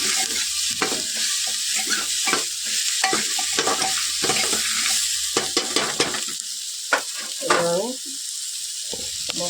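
Potatoes frying in a pan for a ghugni curry are stirred and turned, producing repeated scraping strokes over a steady sizzle, close and fairly loud.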